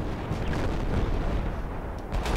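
Heavy gunfire from a big machine gun in the Project Reality tactical shooter, dense and continuous with distant booming shots rolling across the hills, loud and alone without talk.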